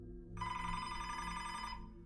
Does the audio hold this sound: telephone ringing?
yes